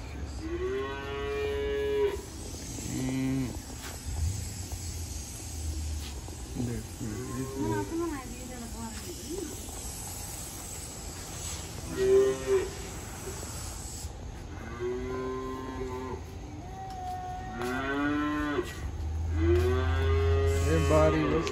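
Cows and calves on a farm in the American countryside mooing repeatedly, long drawn-out lowing calls from several animals at varying distances, some loud and close, with a person talking in between.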